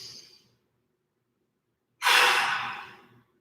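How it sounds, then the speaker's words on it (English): During a strength and mobility workout, a person takes a deep breath: a soft, short intake, then a pause, then a loud, long exhale that fades out, with no talk. "Big breath."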